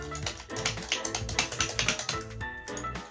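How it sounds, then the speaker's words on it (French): A dermatologist types on a computer keyboard in a stream of quick, close key taps, irregular in rhythm, with no talk over them. "Elle tape sur son ordi"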